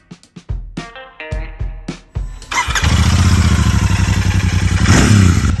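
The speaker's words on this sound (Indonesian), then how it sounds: "suara gahar dari Royal Enfield Super Meteor 650 dalam posisi idle seperti ini" A Royal Enfield Super Meteor 650 cruiser motorcycle: a few clicks and thuds, a cranking starter, then the engine fires loudly and settles into a deep, steady, throbbing idle close by.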